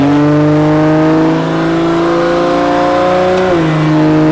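A 2JZ-swapped Nissan Silvia S13 engine revs up close, its pitch climbing steadily before dropping suddenly as the throttle eases.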